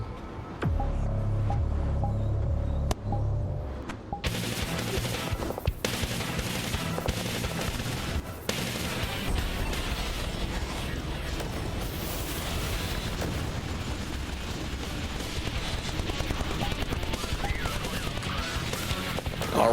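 A heavy barrage of gunfire and explosions erupts in a VRChat roleplay battle against Titans, a dense, continuous roar of overlapping shots and blasts that builds after a short, quieter opening.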